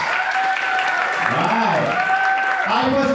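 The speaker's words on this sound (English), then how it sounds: "Why don't we give a round of applause to this Korean language?" Audience applause at a university speech contest, steady clapping under a speaker's voice that continues over it throughout.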